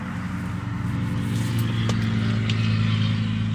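A Chevrolet Chevelle drag car in Forza Horizon 5 roars with a loud, sustained engine drone as its wheels spin, a steady close engine tone with no break.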